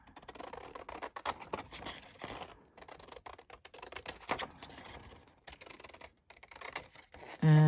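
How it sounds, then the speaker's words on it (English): Scissors trim the white edges off paper for a junk journal craft project, producing a series of close, crisp snips and rustles in irregular rhythm, ending with a louder thud. "I'm just going to cut off these white edges here"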